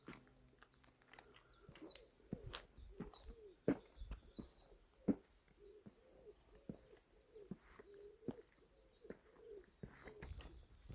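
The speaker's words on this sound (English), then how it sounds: "I can hear the birds." Pigeons or doves coo in soft repeated phrases on a quiet nature trail, with scattered chirps and a few sharp clicks, faint and distant with no talking.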